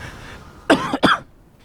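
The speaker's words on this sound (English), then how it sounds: "I got a little bit of a cough here from the laughs." Two sharp coughs close together, near and fairly loud, from someone commentating an online game tournament, with a quiet pause before and after.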